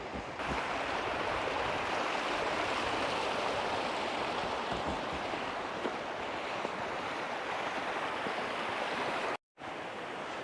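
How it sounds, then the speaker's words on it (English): A stream rushing beneath a layer of ice near a large waterfall on a winter hike, a steady broadband wash of flowing water with some wind, continuous and close, cutting off briefly near the end. "there is this layer of ice and the water just comes underneath it"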